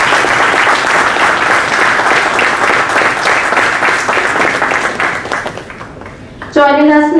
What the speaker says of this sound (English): Please join us in welcoming Ms. Hamsini Shivakumar with a huge round of applause.